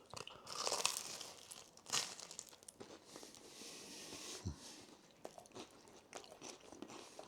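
Crunchy bites of cheesy garlic bread dipped in thick tomato sauce, with several close, sharp chewing crunches in a quiet room.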